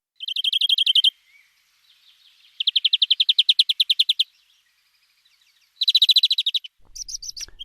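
A European greenfinch sings close and loud in three long, rapid trilling phrases separated by pauses, each a buzzy run of repeated notes, with a short fragment at the end and no voices.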